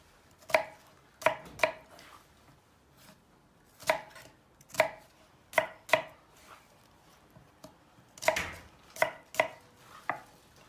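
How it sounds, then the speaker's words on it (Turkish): A knife chopping onions on a cutting board in irregular clusters of quick, crisp cuts with short pauses, close and clear, no talking. "Soğanları doğrayalım."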